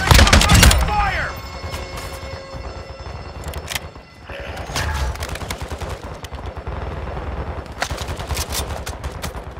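Gunfire in Call of Duty Warzone 2, a loud opening blast followed by dense rattling volleys and repeated sharp shots that continue close up through the whole stretch, with a short lull midway.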